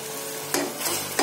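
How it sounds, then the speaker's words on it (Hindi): Tomato paste fries with spices for no-onion, no-garlic chole, a low sizzle broken by three sharp spoon-stirring scrapes in quick succession, close and clear. "और टमाटर पेस्ट को अच्छी तरह से भून लेंगे।"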